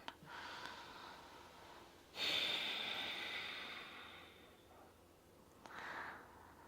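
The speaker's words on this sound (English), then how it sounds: "Just keep breathing nice and deep here." Deep, audible breaths in and out during a yoga side stretch, a quiet inhale followed by a longer, louder exhale and a softer breath near the end, close and alone.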